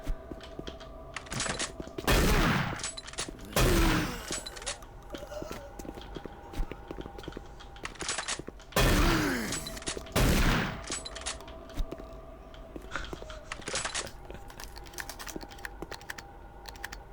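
Bursts of gunfire in DOOM 3 with the Redux mod, loud close shots in clusters between rapid clicking keyboard taps, with a few sharper crack-like reports over a low ambient drone.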